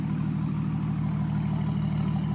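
A custom car's single-exit exhaust rumbles steadily, a deep continuous idle with a low pulsing drone and no change in pitch.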